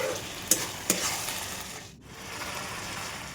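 Spinach cooking in a covered pan with turmeric, a soft steady sizzle and frying noise with a couple of brief clinks from a lid or utensil near the start, moderate and close, no talking.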